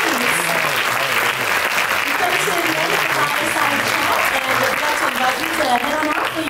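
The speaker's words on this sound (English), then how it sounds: "A massive round of applause for the cast and creatives." A theatre audience in a hall gives the cast and creatives a loud, continuous round of applause, dense and sustained throughout with voices and cheers mixed in.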